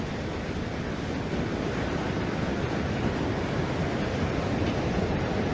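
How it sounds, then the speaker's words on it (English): Raging ocean waves roar as a dense, continuous wash of surf and wind noise. The sound is loud and steady throughout, with no voices. "now we get to listen to the sounds of the raging ocean"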